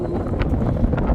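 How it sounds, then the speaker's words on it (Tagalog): Cold wind blows across the long jetty at Welshpool, Victoria, Australia, a brief rough rumble of gusts buffeting the microphone with some low flutter. No one speaks. "Ang lamig ng simoy ng hangin."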